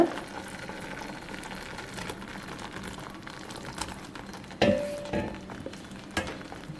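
Tofu curry with greens simmers in a pan with faint, soft bubbling and popping. A few louder clinks and knocks come near the end.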